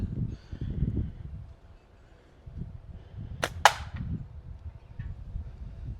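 A Ruckus slingshot is fired outdoors, giving one or two sharp snaps followed by a quick impact. Low rumbling background noise sits beneath the shots, and no one speaks.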